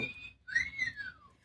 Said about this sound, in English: You could give it the wolf whistle.